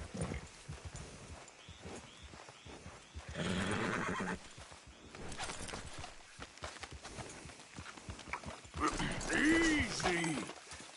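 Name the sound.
horses neighing in the video game Red Dead Redemption 2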